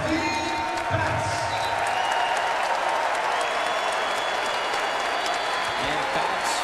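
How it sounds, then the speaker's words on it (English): A basketball arena crowd rises in a sustained standing ovation, dense steady applause and cheering filling the whole stretch at a loud, even level with no letup. "Batts gets a standing ovation, a well-deserved standing O from the crowd here at the dunk"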